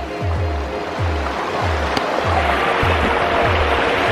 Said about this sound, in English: until we can get up this river. It's rushing right now